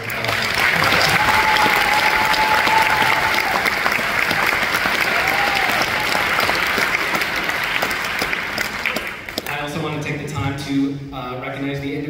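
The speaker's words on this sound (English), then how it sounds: "Let's just give them another round of applause." Loud, sustained applause from an audience for a middle school band at a school concert, dense and continuous with faint cheers, tapering off before a person starts talking near the end.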